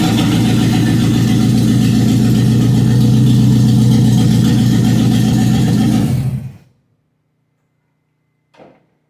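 A loud, steady Studebaker truck engine idles close by with a low rumble for about six seconds, then cuts off abruptly, leaving silence broken by a brief clunk.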